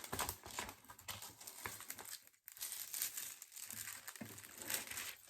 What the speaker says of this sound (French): je vais essayer d'ouvrir le plastique